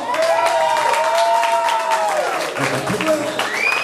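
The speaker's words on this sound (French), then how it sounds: "sous vos applaudissements." An audience at a live outdoor show applauds and cheers, a loud continuous wash of clapping mixed with crowd noise, while a voice rises above it.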